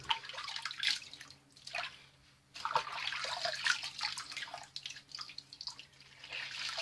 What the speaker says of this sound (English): I'm going to rinse and I'm going to come back and touch everything up.